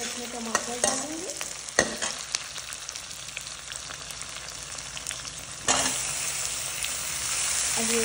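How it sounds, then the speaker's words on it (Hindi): Tomatoes tossed into golden-brown masala for a dum aloo gravy fry with a steady close sizzle, broken by scraping stirs and a louder burst of hissing partway through. "अब मैं इसमें टमाटर डालेंगे।"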